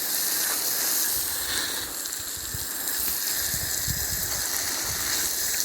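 Water poured and gushing steadily onto freshly planted onions in a vegetable garden, a continuous hissing splash that stays close and fairly even throughout, with no talk.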